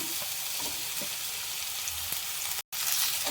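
Cut bitter gourd sizzles steadily in hot oil in a frying pan for an Andhra-style dish, a loud continuous frying hiss with a few faint stirring clicks and one brief dropout.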